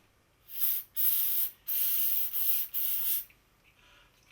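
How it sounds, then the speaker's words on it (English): Switch cleaner is sprayed onto an Autel MaxiDas DS708 scan tool under repair, in about five short, close hissing bursts with brief gaps between them, then quiet. "Spraying some switch cleaner on it."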